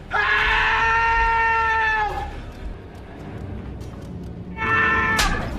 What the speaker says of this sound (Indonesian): ia pun berteriak meminta pertolongan.